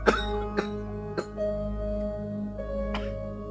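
A man in a Pakistani drama coughs repeatedly, several sharp bursts spread across a few seconds against a quiet indoor background with a steady low hum.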